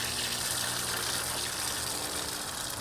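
Water gushes steadily from an outdoor hose bibb as built-up pressure is released during a leak repair, a loud, close, continuous hiss and rush with no talk over it.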